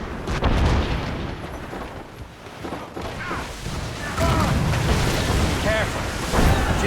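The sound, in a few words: ship cannon shots and explosions in the video game Assassin's Creed Rogue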